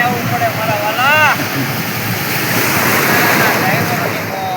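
Sea waves breaking on a Chennai beach make a continuous loud, broad wash mixed with wind, with a brief high whistle-like tone early on and faint voices in the background.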